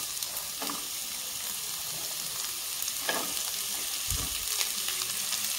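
Carrots and other vegetables fry in a pan as a soft, steady sizzle, with a few stirring clatters and a low knock near the end. It sounds fairly quiet and close, with no talking.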